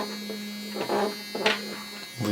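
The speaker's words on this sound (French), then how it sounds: "je peux tester la vibration." The vibration motor of a No 1 S3 smartwatch gives several short buzzes against a steady low electrical hum, close and fairly quiet.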